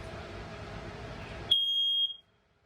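A smoke detector in a 2021 Wildwood 273QBXL travel trailer lets out a single shrill, piercing beep for about half a second, cutting off a low background hum, then silence.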